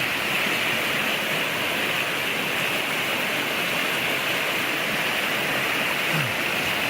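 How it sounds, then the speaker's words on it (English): Steady rushing water from a small waterfall on the Foothills Trail, a constant broadband splash with no voices. "So for this little tiny waterfall"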